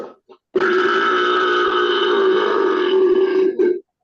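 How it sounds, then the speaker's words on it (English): A robot's button plays a synthetic burp sound effect, one long loud belch lasting about three seconds after a couple of tiny blips. "burp."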